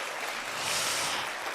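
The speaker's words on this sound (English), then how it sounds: "so give yourselves a round of applause" A live audience claps at a Monday-night talk on kind leadership, a dense, steady wash of applause that swells slightly at its peak and holds throughout.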